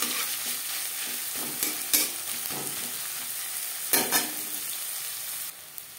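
Amaranth greens (note shak) and onion fry in a pan, with a constant sizzle broken by repeated scraping stirs of a spatula, close and clear with no voices.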